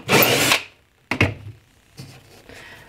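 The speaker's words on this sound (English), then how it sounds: "I'll drill my first hole" A power drill boring a hole into pine or baltic birch plywood for a kitchen island, with a loud half-second burst, then two short whirring pulses and fainter handling sounds.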